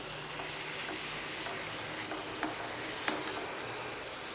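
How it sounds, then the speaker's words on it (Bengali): Masala chicken is stirred in a pan over low-medium heat, a soft steady sizzle of frying with faint scraping and a few light ticks of the spoon, close and quiet. "এটাকে আরেকবার মিক্স করে দেব"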